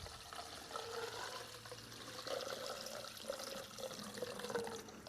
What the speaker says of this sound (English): This is the first time I've put water in here.